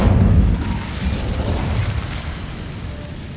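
Incendio fire spell cast in the video game Hogwarts Legacy, a loud low rumbling whoosh that bursts at the start and slowly fades over a few seconds, with no talking.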